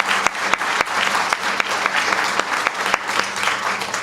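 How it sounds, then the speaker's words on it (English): Audience applause at a press conference on dating violence, a steady dense patter of many hands with a few sharper claps standing out, sustained and fairly close throughout. "those two people deserve a round of applause"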